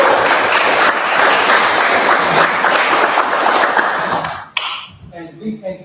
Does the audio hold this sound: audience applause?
yes